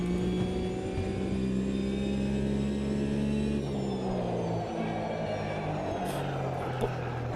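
A Porsche race car engine in Automobilista 2 drones and revs steadily, with its pitch shifting as the car accelerates and changes gear. The engine is loud and continuous, with no voice over it.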